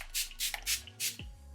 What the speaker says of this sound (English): I'm going to use my Revolution Hyaluronic Fix Plumping Makeup Fixing Spray